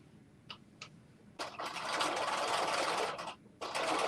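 A home sewing machine runs, stitching a dress during a sew-along: two brief taps, then a loud, steady whirring run close by, a short stop and a restart, with no talking.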